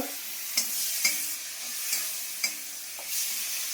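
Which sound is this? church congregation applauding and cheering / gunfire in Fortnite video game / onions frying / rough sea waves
onions frying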